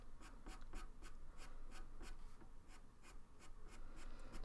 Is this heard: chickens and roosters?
no